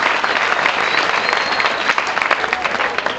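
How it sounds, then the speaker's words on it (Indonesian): Crowd of students from YPP Purworejo clapping steadily and loudly throughout, a dense wash of applause at a school anniversary event. "Saya minta tepuk tangan dulu dong buat siswa-siswi YPP Purworejo"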